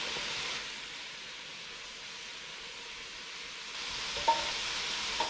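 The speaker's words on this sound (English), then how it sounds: "we've got a little bit of browning going on here" Food browning for red beans and rice sizzles in a pot, a steady close hiss of frying with a faint stir clatter near the end and no talk.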